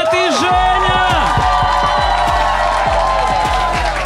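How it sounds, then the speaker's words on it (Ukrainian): A studio audience claps and cheers loudly as hosts come on stage at a live battle show, a dense, constant roar of crowd noise over a pounding bass-heavy music beat. "Оплески, Влад і Женя!"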